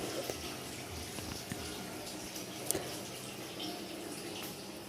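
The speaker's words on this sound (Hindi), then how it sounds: "अब मैंने गीज़र को ऑन कर दिया पानी निकालने के लिए" Water running from a tap after a geyser is switched on, a continuous hiss and splash held at an even level, with a few small knocks and clinks over it and no talk.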